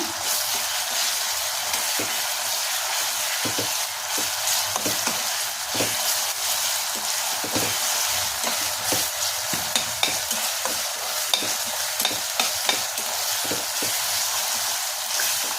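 Ginger garlic paste sizzles steadily in a hot pan for a mushroom biryani, with a constant bright frying hiss and frequent scraping clicks of a spoon stirring it, no talking.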